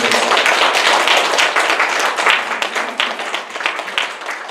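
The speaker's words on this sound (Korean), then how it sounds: "한번 뜨거운 박수를 한번 드리겠습니다" A church congregation applauds warmly during a year-end sermon service, loud dense clapping from many people that holds steady, then eases slightly toward the end.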